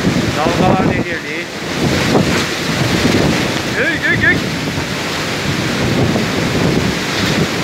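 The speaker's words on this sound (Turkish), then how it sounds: "Dalgalar delirdi." Storm waves surge and crash onto the Ahmetbeyli shore, with loud, continuous churning surf and heavy wind buffeting the microphone, and a person calls out briefly.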